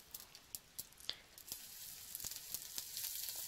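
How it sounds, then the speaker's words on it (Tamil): Green chilli and curry leaves crackle in hot oil with mustard seeds and urad dal, producing a soft sizzle with scattered sharp pops and spits that grow denser toward the end. "ஒரு பேனில் சூடானதும் ஆயில் ஆட் பண்ணிவிட்டு நம்ம தாளிச்சுக்கலாம்"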